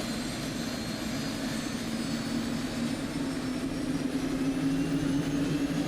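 A Bell 206 helicopter's turbine engine spins up on start, a steady rising whine and roar close by in the cockpit, alone without talk.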